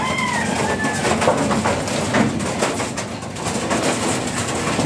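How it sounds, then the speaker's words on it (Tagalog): Pigeons are released from a loft, cooing and rustling in a dense, continuous clamor, with flapping and bird calls close by and no talking. "papakawala ni Boss Ronald yung mga kalapati niya"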